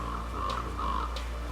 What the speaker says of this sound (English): I think they're crows calling.